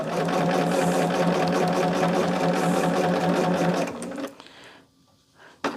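A sewing machine stitches a quilt in a fast, steady, loud hum for about four seconds, then stops, leaving faint handling noises.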